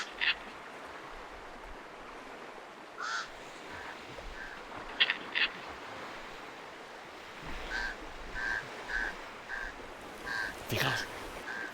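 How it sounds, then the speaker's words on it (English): Pied crows in Guinea-Bissau cawing in short harsh bursts as they mob hooded vultures over fish at the shoreline, with a steady wash of surf underneath and the calls clustering more densely toward the end. "Just watch how the crows mob the vultures so as to keep more of the food."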